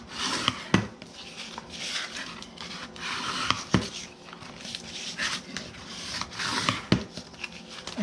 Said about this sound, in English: I'm going to go ahead and fold and burnish both of these boxes